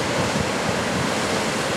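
Aggressive ocean waves crash on a West Coast shore, a loud, continuous roar of heavy surf with rumbling low-end and steady broadband spray noise, no voices.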